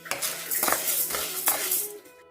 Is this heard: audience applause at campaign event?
no